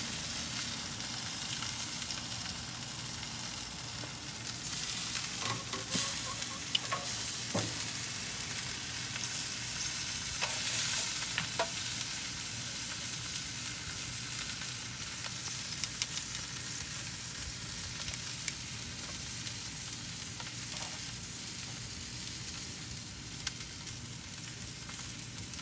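Steaks searing in a hot pan give a continuous close sizzle and hiss that runs throughout, with occasional clicks and scrapes of a utensil moving the meat.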